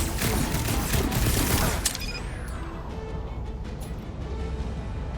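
Rapid bursts of gunfire ring out in the Guardians of the Galaxy video game, a dense loud volley for about two seconds, then a sharp cutoff into a ringing, whooshing tail.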